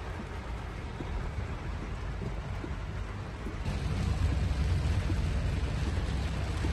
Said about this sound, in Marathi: सध्या जोरदार पाऊस सुरू आहे